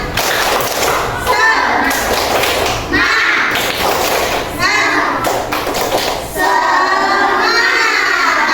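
A group of children or participants claps together in a rhythmic spirit-clap routine led in a classroom or training session, with repeated bursts of sharp claps and chatter between.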